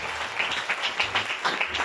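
A church congregation claps during a service, brief rhythmic applause with pulsing bursts of hands at moderate level, somewhat distant in the room.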